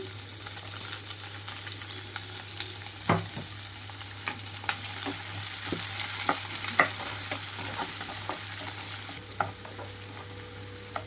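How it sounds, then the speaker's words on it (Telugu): Onions and green chillies fry in hot oil with a steady sizzle, broken by occasional stirring clinks and scrapes close by. "కట్ చేసి పెట్టుకున్న ఉల్లిపాయలు అలాగే పచ్చిమిరపకాయలు వేస్తున్నాను"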